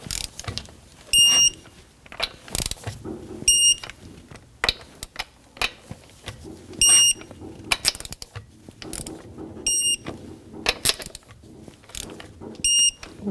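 Repeated ratcheting clicks of a torque wrench tightening wheel bolts on a 2011-2018 Volvo S60 in a crisscross pattern, short mechanical bursts spaced every couple of seconds with faint high beeps, close and clear with no talk.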